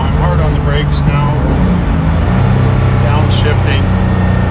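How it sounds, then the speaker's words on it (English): A 1956 Mercedes-Benz 300SL Gullwing engine drones steadily as the driver brakes hard and downshifts and the revs shift, a constant mechanical hum with someone talking over it. "I'm hard on the brakes now,"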